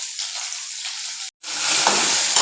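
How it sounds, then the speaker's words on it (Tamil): Small shallots sauté in hot oil in a pan, a loud continuous sizzle that cuts out for a moment, then returns a little stronger as stirring resumes. "சின்ன வெங்காயத்தையும் வதக்கிக்கலாம்."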